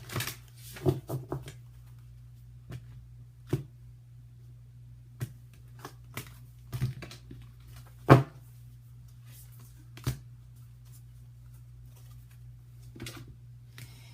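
Tarot cards being shuffled produce scattered soft flicks and taps, with one sharper snap, spaced irregularly over a faint steady low hum and no speech.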